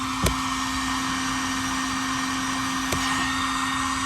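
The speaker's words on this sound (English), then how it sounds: "And we're taking the heat gun." A heat gun blows steadily while warming a hose during truck tank plumbing. The fan-driven hiss and hum is constant and close, with a couple of faint clicks and no talking.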